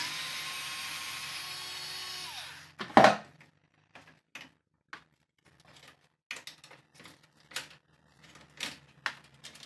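Screw removal on an HP LaserJet 1005 MFP printer: a steady motor whir cuts off, then scattered close clicks, scrapes and plastic taps from a screwdriver and parts come in short irregular bursts.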